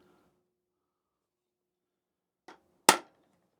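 Two sharp metallic taps of a hammer striking a center punch on a David Brown 990 tractor part in quiet surroundings, a lighter tick followed by one firm, ringing strike.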